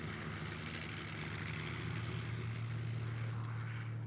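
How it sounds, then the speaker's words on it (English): A Dutch Fokker trimotor airplane flying over Java in 1932, its propeller engines giving a steady, continuous droning roar that holds at an even loudness throughout. "they decide to take a plane, flying over Java in a Dutch Fokker trimotor"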